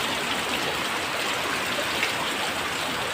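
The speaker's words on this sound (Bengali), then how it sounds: "যা অবস্থা দেখে বোঝা যাচ্ছে যে আজকে আর বৃষ্টি থামবে না।" Heavy rain pours down under a dark sky as a dense, constant roaring wash of water, loud and unbroken from start to finish.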